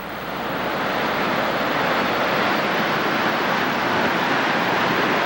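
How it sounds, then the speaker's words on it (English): Steady roar of a waterfall in Alaska near a lagoon below a lake, a loud, constant wash of rushing water with no voices, holding evenly from start to finish. "Here's the waterfall."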